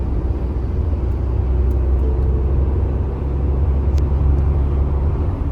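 A Tata Nexon cruising in fourth gear, heard from inside as a loud, steady low road and engine rumble that holds unchanged from start to finish.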